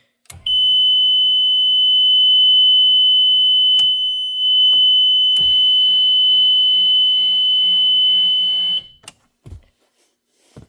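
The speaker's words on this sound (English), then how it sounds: "the kit includes the most annoying buzzer in the world" A loud, piercing electronic buzzer on a mobility step bar drones continuously for about eight seconds, interrupted by a couple of clicks, then cuts off.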